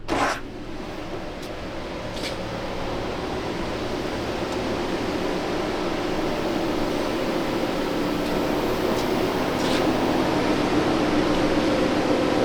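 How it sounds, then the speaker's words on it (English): Machine shop noise with a lathe running during work on custom shotgun chokes: a steady loud broadband mechanical hum and hiss, with a few faint clicks. "Maybe you can hear me over the noise in the shop"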